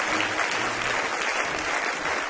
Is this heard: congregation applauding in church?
yes